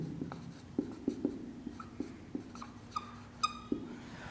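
Chalk or marker writing on a classroom board during a Bengali geography lesson, a series of short taps and scratchy strokes at close range, with no one talking.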